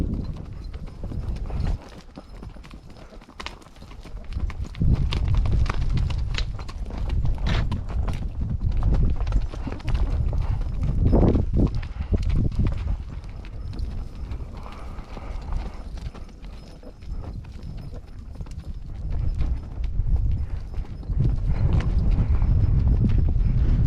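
Horse hooves clip-clop steadily on a washed-out trail during a ride near Fort Stanton, the rhythmic hoofbeats close and continuous with gear creaks and rustling underneath, no talk.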